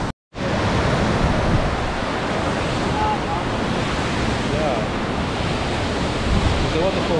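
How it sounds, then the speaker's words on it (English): Steady, loud, broadband rushing of a waterfall in the Austrian countryside, constant and close, with faint wind buffeting the microphone. "Okay guys, so this is the waterfall."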